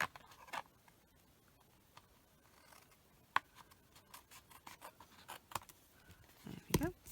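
Scissors cut through card for a paper craft project, quiet scattered snips and crisp paper rustles up close, with a brief louder handling noise near the end.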